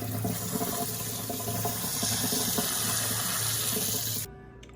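Rice is rinsed under a running tap, a steady close splashing rush of water that cuts off abruptly near the end, with no talking.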